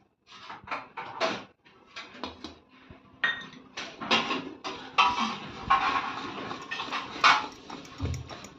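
A spoon stirs mango cake batter in a bowl with steady scraping and clinking against the sides, close and fairly loud, in repeated irregular strokes.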